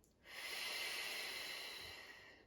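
A single deep breath drawn in during a prenatal core-control exercise on a ball, a steady airy hiss lasting about two seconds, close and fairly quiet with no talk over it.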